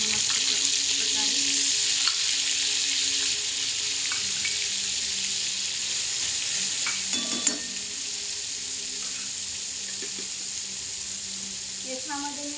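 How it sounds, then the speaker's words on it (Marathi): Tomato and ginger paste frying in hot oil in a home kitchen for a capsicum curry, a steady soft sizzle with occasional stirring clinks and scrapes against the pan. "तेलामध्ये तळल्या जातं मस्त प्रकारे।"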